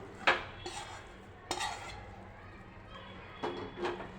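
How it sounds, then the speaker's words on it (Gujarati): A utensil scrapes and spreads warm sukhdi mixture across a ghee-greased dish, making a few soft, close scraping strokes and taps with pauses between them over a low background hum. "અને આવી રીતે ફેલાવી દઈશું"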